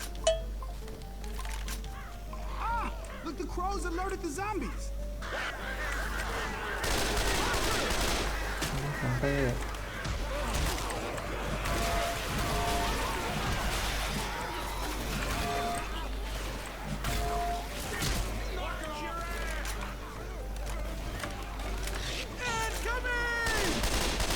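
Gunfire from the zombie shooter game Left 4 Dead 2, dense bursts of shots and clatter running almost continuously over game noise, with players talking throughout.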